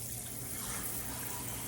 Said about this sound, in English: we're gonna fill this up with cold water